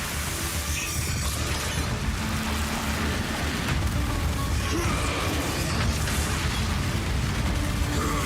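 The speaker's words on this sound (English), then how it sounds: "Once you push the plunger, any undead freed by the explosions rise from the ground and the slaughter begins." Plunger-triggered explosions in the game Path of Exile rumble and crackle continuously, dense bursts and debris clatter layered into a loud, unbroken wash of booms with no voices.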